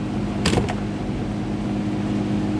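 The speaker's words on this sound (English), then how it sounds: "I've got 3 fans blasted right now." Three electric fans blow at once, making a steady broadband whoosh with a low hum underneath and a brief clatter near the start.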